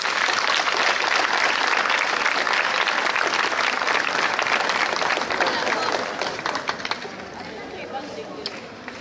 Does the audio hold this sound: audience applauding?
yes